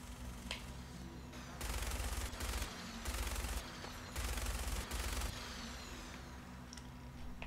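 Bursts of rapid automatic gunfire in the video game Fallout 4, several loud sustained volleys with short gaps between them over a steady low engine-like hum, no voices.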